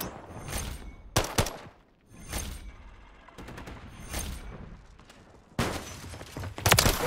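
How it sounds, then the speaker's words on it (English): A remote turret fires in the Call of Duty video game. Fairly quiet bursts of rapid automatic gunfire are separated by short pauses, mixed with duller thuds. "Hostiles deploy the remote turret."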